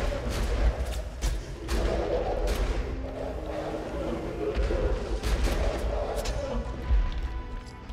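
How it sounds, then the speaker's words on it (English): A grenade going off during a firefight in the shooter Borderlands 2: a run of thumping blasts and gunshots rolls across a dense battle backdrop, each hit sharp and fairly close, with a voice talking underneath. "Let's toss a grenade out there by chance."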